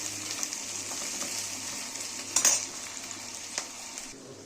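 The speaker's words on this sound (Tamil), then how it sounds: "பச்சை மிளகா அரைஞ்சி நல்லா ஃப்ரை ஆகணும்" Onions and ground green chili fry in a pan with a steady close hiss of sizzling oil, broken by a brief scrape of stirring midway and a few lighter clinks near the end.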